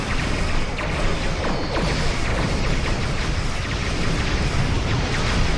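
A scout vessel blows up in the Star Trek Online space game, a loud, dense, sustained crash-and-roar of explosion noise filling the whole stretch without pause.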